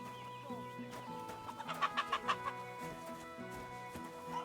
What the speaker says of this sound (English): That's like a chicken coop.